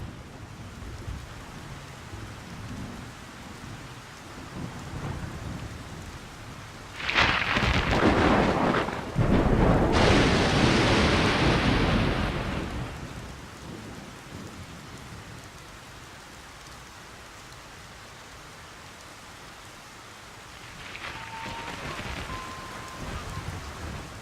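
Steady rain hiss in Splinter Cell: Pandora Tomorrow at a Jakarta TV station, broken by a loud, rolling thunder crash lasting several seconds before easing back to rainfall, with a faint tonal element near the end.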